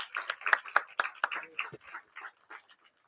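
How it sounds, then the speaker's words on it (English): A small audience claps for dignitaries seated on the dais at a law conference, a brief ripple of scattered, fairly close claps that fades out within a few seconds. "we can have a loud round of applause for all the dignitaries on the dais"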